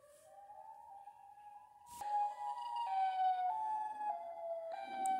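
A Siren Head siren wail in a horror game, a long eerie tonal siren drifting in pitch with a sharp click partway through, playing alone without speech.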